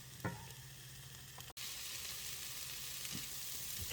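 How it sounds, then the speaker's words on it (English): Onions and carrots sizzle steadily in a pan with a close, even frying hiss and a few faint stirring knocks; the sizzle grows slightly louder partway through. "I really just wanted to let the onions cook and get translucent."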